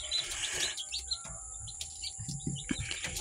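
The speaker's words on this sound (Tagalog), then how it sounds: "So ito po yung ating mga bagong sisiw." Newly hatched chicks on a small backyard farm chirp in high, quick peeps, several overlapping close by against a soft background hum.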